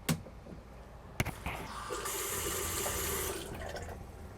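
A Seaflo diaphragm water pump for boats and RVs runs while a bathroom tap is opened, giving a few sharp clicks and then a steady, fairly loud hiss of flowing water with a low hum underneath.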